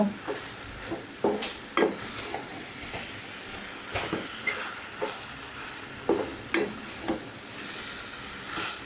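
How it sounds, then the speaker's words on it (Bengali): A spatula scrapes and stirs noodles with chilies in a sizzling pan, repeated scraping strokes at an uneven rhythm over a steady frying hiss. "মরিচগুলো দিয়ে দিয়েছি এখন হচ্ছে ভালো করে মিক্স করব"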